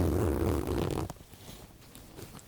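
A zipper on a retro bag zips open in one quick, close raspy pull lasting about a second, followed by quiet handling noises.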